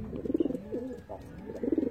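A racing pigeon coos close by in two short soft bursts, low throaty rolling calls with a quiet gap between them over light background hum.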